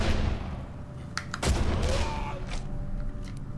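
Gunfire in Condemned: Criminal Origins, a few sharp shots cracking over dense game noise, with one louder blast near the middle and fainter reports after, while a voice talks over it.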